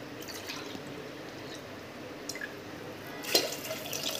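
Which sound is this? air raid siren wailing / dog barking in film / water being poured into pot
water being poured into pot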